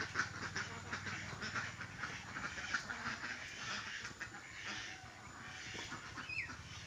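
A flock of about 80 hungry ducks quacks continuously in a farm setting, a dense, overlapping chorus at close to middle distance with steady background noise and no talk.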